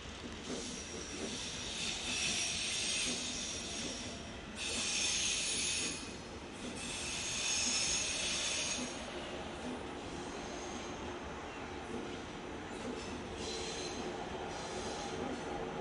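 A pair of Class 402 electric train units arriving at a station on a München to Hamburg and Bremen service, with a sustained rail hiss and rumble rising in waves and faint wheel squeal, no voices.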